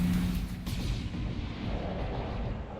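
A BattleTech mech fires a missile salvo, producing a heavy boom and a rumbling roar that fades over a few seconds, alone without talk.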